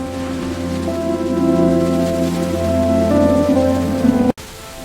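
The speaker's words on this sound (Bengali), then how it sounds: "ধীরে ধীরে বৃষ্টি কমতে শুরু করে" Heavy, steady rain pours down on a Dhaka street during flooding, a dense continuous wash of water that holds loud and even before cutting off abruptly near the end.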